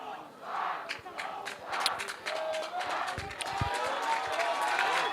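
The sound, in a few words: crowd cheering as rugby team runs onto field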